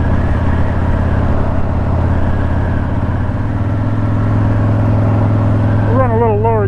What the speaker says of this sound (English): We'll run a little lower gear so we keep the RPM up and get her warmed up a little more